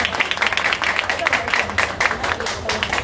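A crowd applauds and cheers for President Djawate at a ceremony, a steady dense wash of clapping with voices mixed in, sustained throughout at moderate loudness.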